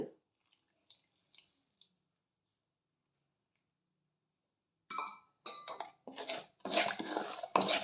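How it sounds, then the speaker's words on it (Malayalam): Amla pickle is stirred with oil in a pan: a few faint spoon clinks, a quiet pause, then close, repeated scraping and clattering strokes. "നമുക്കൊന്ന് നന്നായി ഒന്ന് ഇളക്കി കൊടുക്കാം കുറച്ച് എണ്ണയും കൂടി ഞാൻ ഒഴിക്കുന്നുണ്ട്"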